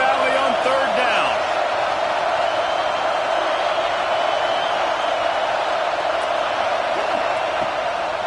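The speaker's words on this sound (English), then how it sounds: "Here comes the noise from this big crowd in Happy Valley on third down." A big college football stadium crowd in Happy Valley roars on third down, a dense, loud and steady wall of noise with a commentator talking over it.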